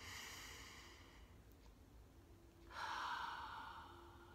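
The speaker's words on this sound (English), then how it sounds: "Take a deep breath." A deep breath is drawn in slowly and softly, then a fuller, louder inhale swells near the end, close and alone in a quiet setting.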